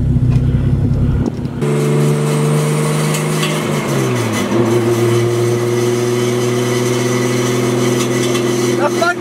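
Engine and exhaust of a manual-swapped Nissan R32 Skyline with a worn bushing, droning loudly and steadily while driving, the pitch dipping and settling as it shifts, with occasional voices underneath.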